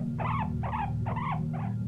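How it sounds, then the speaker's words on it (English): A guinea pig rumbles close by: a low, steady grumbling drone runs throughout, with four short chirpy squeaks repeating evenly on top. "rumbling is a repeated low-pitched sound that almost sounds like growling"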